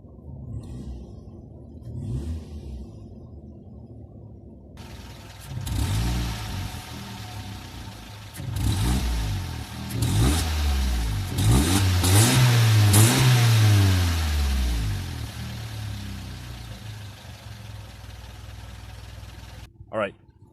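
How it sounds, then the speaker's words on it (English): A 2003 Toyota Yaris engine idles close by, then is revved several times. Each rev rises and falls in a clear rumbling sweep before the engine settles back to idle. "do a few revs, and see how it sounds."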